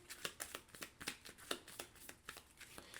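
Playing cards for the Marvel United board game being riffle-shuffled up close, a rapid run of crisp flutters and snaps repeating in quick bursts, fairly quiet, with no talk.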